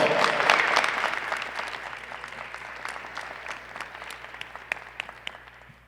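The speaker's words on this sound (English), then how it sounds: "Let's give a round of applause" A crowd of guests applauds newly graduated Cleveland EMS members at their graduation ceremony, a dense wash of many hands clapping that starts loud and slowly thins out, with a few sharper individual claps standing out near the end.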